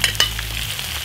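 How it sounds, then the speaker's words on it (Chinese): Goose meat with added ingredients stir-fried in an iron wok over a wood-fired earthen stove, giving a steady close sizzle with a couple of sharp spatula scrapes near the start. "加入所有材料，再煸炒"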